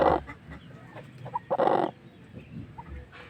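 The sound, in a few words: Rhode Island Red hens clucking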